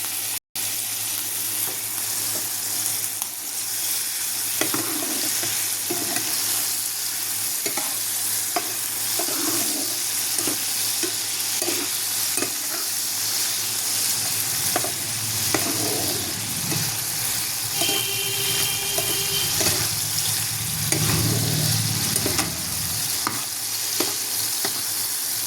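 Prawns fry with turmeric in a pan for a pumpkin curry, giving a steady loud sizzle with occasional stirring scrapes and louder bursts of spattering toward the end.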